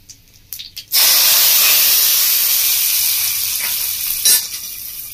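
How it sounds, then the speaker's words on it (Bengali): Hot fried tempering poured into a pot of Bengali fish khichuri bursts into a loud, sustained sizzling hiss after a brief quiet start, with a sharper spitting flare near the end. "ফোড়নটা ভালো করে ভাজা হয়ে গেছে। এবার আমি খিচুড়ির মধ্যে দিয়ে দিচ্ছি"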